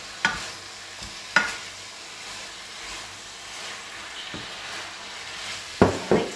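Turnips are stir-fried in a small pot for popiah filling, with a low continuous sizzle broken by a few loud, sharp scrapes and knocks of the spatula against the pot.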